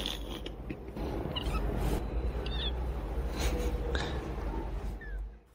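A newly adopted kitten gives a few short, faint meows amid soft creaks and rustling nearby in a quiet house room.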